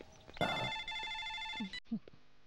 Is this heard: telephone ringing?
yes